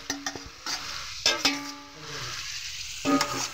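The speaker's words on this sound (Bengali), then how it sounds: "তা আমি এই সবজিটাকেও ভেজে নিচ্ছি। হয়ে গেছে, এখন এটার সাথে আমি এই ফুলকপিগুলো দিয়ে দিচ্ছি।" Cauliflower florets and vegetables frying in a pan give a steady soft sizzle, with stirring scrapes and a few clinks of a utensil against the pan, close and moderate in level, no talking.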